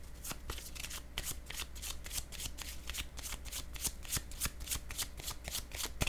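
Tarot cards are shuffled close up in a steady run of crisp, rapid riffling flicks that continues without a break, with no talking over it.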